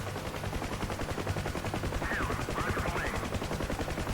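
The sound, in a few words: rockets firing from aircraft in DCS UH-1H Huey video game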